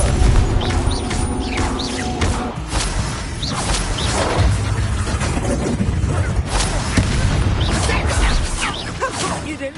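A Confringo fire spell blasts in a video game, set within dense, continuous combat noise full of whooshes, crashes and booms, with voices talking throughout.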